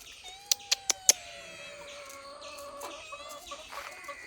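Domestic chickens cluck around a village house yard with kittens nearby, a few sharp short calls near the start followed by softer, drawn-out clucks and chirps, fairly close and moderately loud, with no talking.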